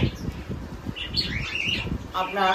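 Pet cockatiels chirp in a cage with soft, scattered calls, a brighter burst of tweets near the end, and a low background rumble throughout.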